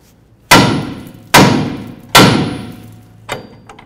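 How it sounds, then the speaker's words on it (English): Three heavy hammer blows strike the steering knuckle of a 2005–2015 Toyota Tacoma front strut assembly, evenly spaced ringing metallic thuds close by, followed by a lighter fourth tap. "Let's go ahead and bonk right on the knuckle right here."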